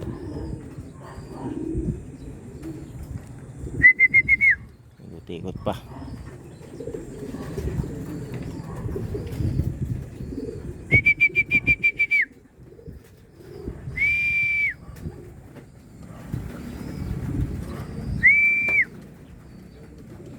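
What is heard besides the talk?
birds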